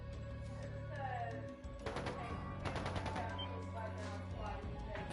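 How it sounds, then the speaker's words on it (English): Rapid bursts of gunfire crackle over a steady electronic background hum in Trails of Cold Steel 2, the game's soundtrack and effects playing continuously. "That sounded like gunfire."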